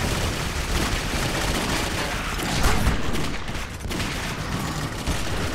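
Dense, continuous gunfire and explosive booms in the video game Clive Barker's Jericho, a loud, unbroken barrage with no clear gaps between shots.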